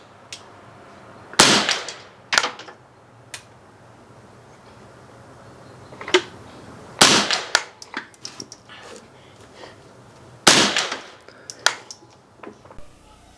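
Rifle shots from an AR-15 firing .22lr rounds through a CMMG Ciener conversion kit, heard as sharp, loud cracks spaced out over several seconds, each with a brief echoing tail and occasional fainter pops between.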